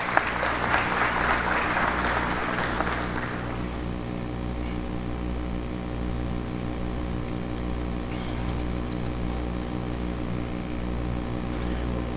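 Audience applause at a human resources management convention in a hall: several seconds of dense, loud clapping that fades away, leaving a steady low mechanical hum droning on alone.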